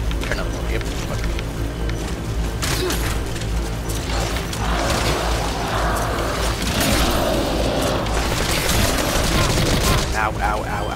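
Rapid gunfire and bullets hitting near the player in the video game Metal Gear Survive, dense bursts over busy game noise and mechanical clatter, with a voice talking over it.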